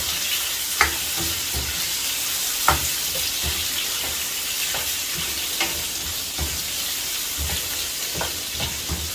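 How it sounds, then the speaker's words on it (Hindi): Cubed coloured capsicum stir-fried in a hot pan for Schezwan chicken, producing a dense, even sizzle with sharp periodic scrapes and knocks of a spatula, close and loud, with no voices. "तो इसको 1 से 2 मिनट तक मैं इसको स्टर फ्राई करूंगा"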